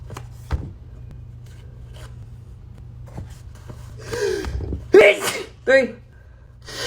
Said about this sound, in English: That's how you can sneeze on demand.